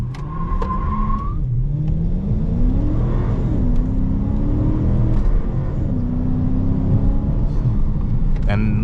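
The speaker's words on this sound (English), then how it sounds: "we're gonna try a quick little acceleration" A Dodge Charger R/T accelerates hard from inside the cabin, its engine drone rising in steady sweeps through a couple of gear changes, loud and continuous, with a brief chime at the start and faint voices.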